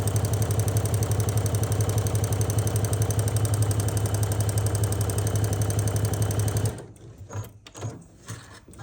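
A Juki sewing machine stitches an 8.5 by 2.5 inch fabric rectangle onto an acorn quilt block, humming in a steady, rapid mechanical whir for several seconds before stopping and leaving a few soft clicks and handling sounds.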